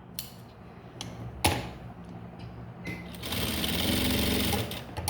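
A sewing machine stitches a blouse in short starts, with a brief pause, then a longer steady whirring run near the end. Light handling clatter comes between the bursts.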